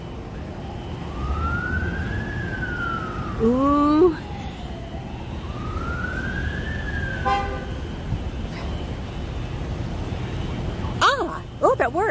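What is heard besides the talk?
fire engine siren on the street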